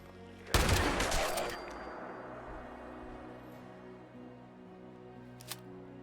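Turret gunfire in Fallout 76, a loud burst of rapid shots near the start that fades into a lingering echo, followed by a single faint shot or click toward the end.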